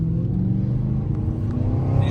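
Audi RS5 V8 with an Armytrix exhaust and APR tune idles and revs with a deep, steady, loud rumble, heard up close for a couple of seconds without talk.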